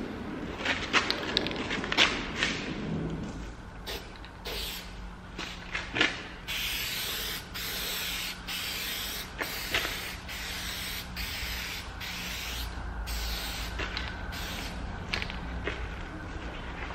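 Hyperdip gloss black being sprayed onto the side mirrors of a Mercedes C-Class, coat number eight: repeated close aerosol hisses in short and longer bursts, with rustling and movement between them.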